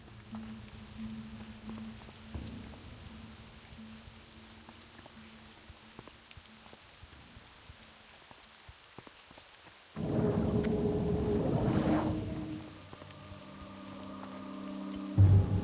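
Steady rain falls in a gray, dark forest in World of Warcraft Classic, a soft continuous hiss with occasional thunder-like rumbles; a louder burst of game effects swells midway and low tones follow near the end, with no talking.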